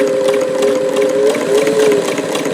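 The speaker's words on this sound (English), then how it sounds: "I'm sewing through quite thick canvas" A Davis vertical feed long-needle sewing machine with a small 15x1 needle runs steadily through thick canvas, giving a continuous close mechanical whir with a rapid stitching rhythm and no talk.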